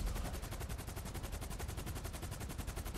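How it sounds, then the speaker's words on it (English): Rapid automatic gunfire in GTA 5 Online is aimed at a helicopter pilot in a Cargobob, a continuous fast burst of evenly spaced shots at moderate volume lasting several seconds, with no speech. "Don't try to shoot the pilot in the cargo bob before he lands, like I do here."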